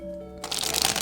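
A deck of tarot cards riffled and shuffled, a quick close rustling burst that starts after a brief steady tone, with no talk over it.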